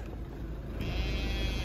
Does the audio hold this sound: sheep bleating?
yes